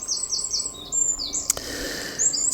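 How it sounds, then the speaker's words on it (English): Birds singing outdoors: repeated high chirps and descending whistled notes in quick bursts, with one sharp click midway, fairly faint against quiet background and no talk. "And the birds are singing"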